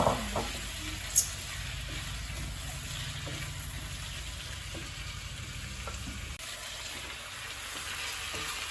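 Potatoes and tomatoes sautéing in a pan for Jaffna chicken curry, a continuous moderate sizzle with scattered clinks and scrapes of stirring, no speech.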